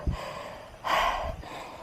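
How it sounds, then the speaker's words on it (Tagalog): A cyclist catching breath after a hard climb on a 200 km audax ride, a sharp gasp followed by a heavier exhale, close and breathy with no speech. "Hingal."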